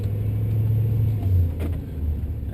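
Supercharged VZ Holden Ute with a 5.7 litre LS1 V8, Eaton Magnuson 1900 blower and upgraded 4L60E automatic, droning steadily on a road drive, a low engine hum with a slight swell in revs midway.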